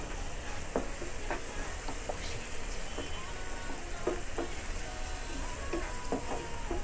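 Garlic paste with chili and salt lightly frying in a pan for a Bengali egg curry, a steady close sizzle broken by scattered scraping clicks of stirring throughout.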